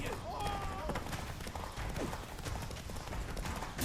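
Hooves of Geralt's horse Roach gallop in a steady clip-clop rhythm in The Witcher 3, under speech and game effects, moderately loud.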